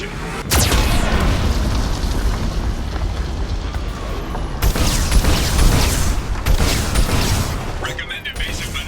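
Mass Effect battle sounds as a Geth cannon fires, with heavy booming blasts and rumbling explosions, loud and close, along with mechanical creaks and bursts.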